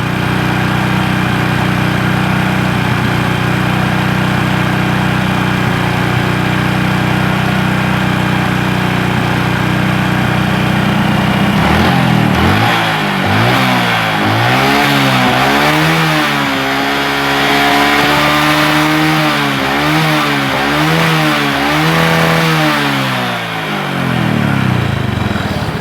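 A carburetor engine with fuel dripping from the carburetor overflow hose idles steadily, then revs up and down in repeated rising and falling swells as the idle screw is turned, loud and close with no talk.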